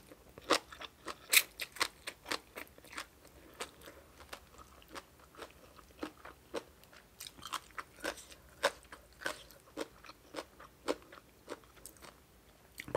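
Close, crisp crunching bites and chewing while eating a spicy Thai som tam salad with khanom chin noodles and cha-om greens, a quiet irregular series of sharp crackling chomps without talk.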